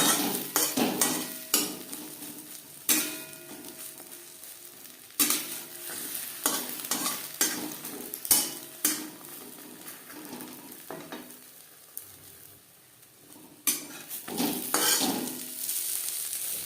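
An egg omelette fries in a pan with a constant soft sizzle, punctuated by sharp clinks and scrapes of a utensil against the pan, some grouped in quick bursts, with a quieter lull midway.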